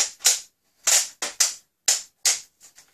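An X-Shot Quick-Slide toy dart blaster fires in a quick series of sharp, close snapping shots, some in rapid pairs, with the last two softer, separated by brief silences.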